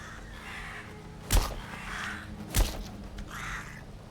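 Two loud, sharp crow caws in the Atomfall video game, spaced about a second apart over a quiet ambient bed, with faint airy swells between them.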